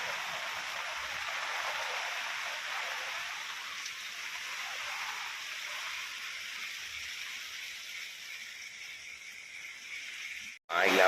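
Heavy rain pours down steadily over a campsite in Thong Pha Phum National Park, a dense continuous hiss that holds near and even for most of the stretch before a brief sharp break at the end.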